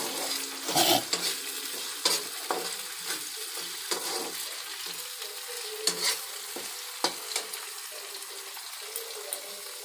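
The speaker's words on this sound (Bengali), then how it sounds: "এখন একটু ভালো করে নেড়ে চেড়ে নিচ্ছি একটু।" Tangra fish frying with plenty of garlic in a pan, stirred with a utensil: a continuous close sizzle broken by sharp scraping and knocking strokes at irregular intervals over about ten seconds, no speech.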